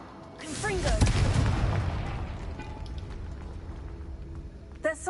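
A Confringo blasting spell explodes in the Hogwarts Legacy video game, a sharp booming burst followed by a rumbling decay, with a voice casting the spell and a short second pop near the end.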